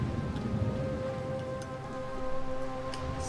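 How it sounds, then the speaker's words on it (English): Steady rain falls in the zombie horror video game Dying Light, a dense continuous hiss with scattered drop ticks and a low tonal hum beneath, with no talking. "Why is it always raining?"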